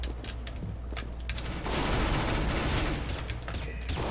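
Rapid bursts of gunfire in Counter-Strike: Global Offensive rattle loud and close in dense, overlapping volleys that swell in the second half.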